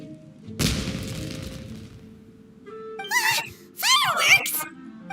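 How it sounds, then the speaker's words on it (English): Fireworks burst in the video game Genshin Impact, with a loud crackling blast near the start followed by two later bursts of whistling, popping explosions over steady background sound. "Was that an explosion? It sounded like fireworks."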